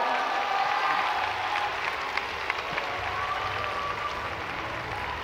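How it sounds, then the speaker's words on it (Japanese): A kickboxing crowd at the RISE World Series 2023 final applauds champion Toki Tamaru, sustained, moderately loud clapping mixed with a few cheers and scattered sharper claps over several seconds. "今一度盛大な拍手をお願いします。"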